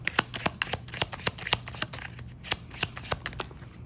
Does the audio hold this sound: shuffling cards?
yes